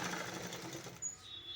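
A sewing machine stitches thread piping onto cloth, giving a faint, steady whirring run that cuts off partway through, with no voices.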